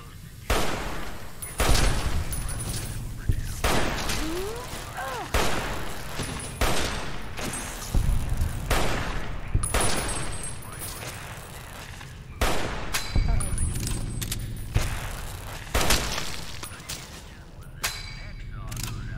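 Fallout: New Vegas gunfire booms in repeated heavy shots spaced a second or two apart, each with a thudding low tail, while someone talks between and over them.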